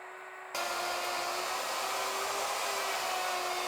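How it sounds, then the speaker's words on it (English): A router starts up and cuts along the inside of pen lines in Eco-Grip flooring, a sudden high, steady whine that holds evenly after the switch-on, close and alone without talk. "Router the inside of your pen lines at this depth accordingly."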